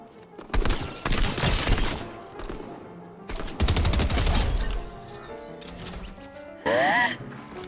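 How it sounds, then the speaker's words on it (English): Fortnite match with enemies shooting, several loud bursts of rapid automatic gunfire separated by short lulls, with a brief crackling shatter near the end. "I can hear them shooting."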